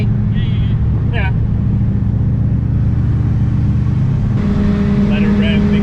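The HAKO race car's engine drones and rumbles on a track at steady, fairly low revs, a continuous loud hum heard from inside, with voices calling out over it.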